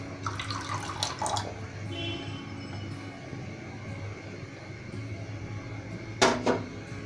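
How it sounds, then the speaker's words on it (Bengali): Water poured into a pot, set up for steaming a Bangladeshi Bibikhana pitha, with faint splashing and trickling in a quiet kitchen and a brief louder gush near the end. "বাটির অর্ধেক পর্যন্ত আমরা পানি দিয়ে দিতেছি।"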